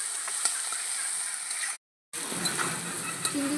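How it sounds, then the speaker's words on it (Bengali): Prawns dusted with salt and turmeric sizzle and spit in hot oil in a pan, a steady close crackle with small pops, cut by a brief silent gap before the frying resumes. "মাছগুলোকে একটু ভেজে নেব।"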